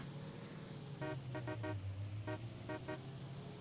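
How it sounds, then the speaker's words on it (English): A vehicle horn in Farming Simulator 25, honked in short clustered toots, a few quick blasts then a pause and more, sounding clear over a steady engine hum. "I like honking that horn."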